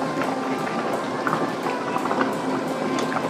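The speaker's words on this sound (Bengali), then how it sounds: "মাছগুলো ঝোলের সঙ্গে ফুটলেই" Fish curry boils in its gravy with a close, busy bubbling and popping, steady and moderately loud throughout.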